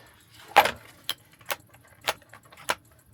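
Hand tools such as wrenches and screwdrivers for a motorhome clink and jangle metallically in five or six sharp, separate knocks close by, otherwise quiet.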